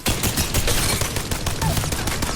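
The Rampage light machine gun in Apex Legends, loaded with a thermite grenade, fires a dense sustained burst of rapid shots that is loud, continuous and close, with no talk.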